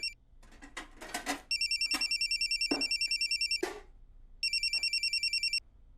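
A telephone rings in two long trilling bursts, electronic and insistent, with brief rustling and clatter nearby between them.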